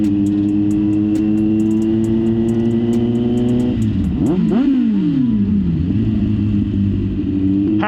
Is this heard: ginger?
no